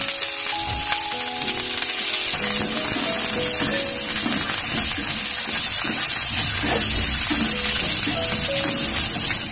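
Chopped onion and mixed vegetables frying in a pan for red amaranth greens, a loud continuous close sizzle with crackling steam throughout and no talk.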